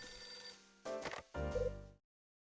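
A phone rings in the video game Last Window, with several short ringing bursts rising over a bed of game music before everything cuts to silence.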